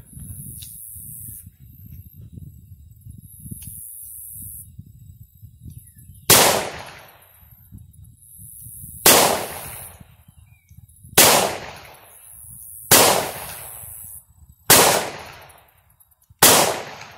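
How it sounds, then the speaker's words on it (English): An old Smith & Wesson .38 Special revolver fires five sharp, loud shots at irregular intervals of roughly one to two seconds, each crack followed by a brief decaying echo over faint outdoor background noise. "Why is it only firing five when I got six rounds in there?"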